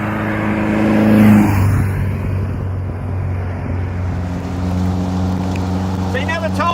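A 1964 Meyers Manx kit-built dune buggy runs with a steady low engine drone throughout, swelling slightly early on, while people talk over it.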